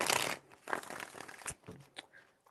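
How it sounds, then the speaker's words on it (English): A deck of tarot cards being shuffled by hand, a soft close riffle at the start followed by quieter papery flicks and taps. "4 shuffles."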